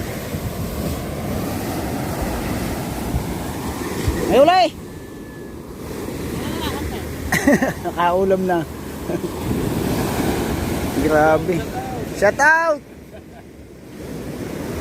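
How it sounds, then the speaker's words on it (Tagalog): Big ocean waves surge and break on the shore close to a beachside hut, a constant loud roar with wind buffeting, while people talk and exclaim over it. "Ang lalaki na naman ng alon."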